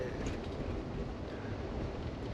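Steady low rumble of an Amtrak Empire Builder passenger train rolling on rails through Minneapolis, a constant dense drone with faint rattling, heard from inside the carriage.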